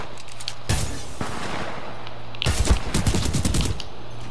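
SMG gunfire in Titanfall 2, two rapid automatic bursts of loud, crackling shots, one short and one longer, over a low steady game hum.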